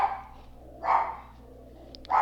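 A pet dog barks indoors, three separate sharp barks spaced about a second apart, close and loud against a quiet room hum, no voices.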